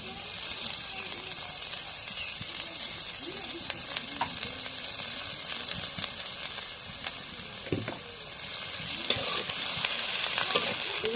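Mustard oil sizzles in a pan while chicken feet, gizzard and liver bhuna is cooked, a steady broadband hiss with stirring scrapes and clinks throughout, growing a little louder toward the end.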